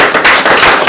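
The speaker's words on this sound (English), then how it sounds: "We'll give them a round of applause for again sponsoring this event." A brief, loud burst of crowd applause, dense and crackling, with no voices.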